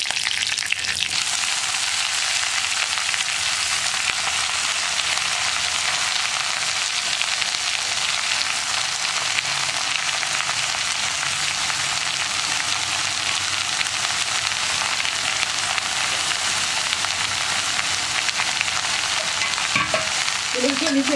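Chopped spinach leaves with curry leaves fry in a pan for a Kerala-style thoran, giving a steady, dense, rain-like sizzle that runs unbroken throughout, with occasional soft stirring scrapes up close.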